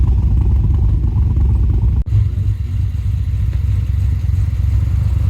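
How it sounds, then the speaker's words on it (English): A deep, lumpy V8 engine with a modified camshaft idles steadily and loudly, broken by a brief dip about two seconds in before settling back into its low throb. "the camshaft completely changed the idling sound of the car, made it a lot more lower, a lot rumbly"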